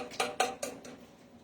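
Chopped ginger drops into a cooking pan in a few quick, light clinking taps, three close together and then fading, faint and sharp at close range.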